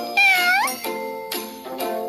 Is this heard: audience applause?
no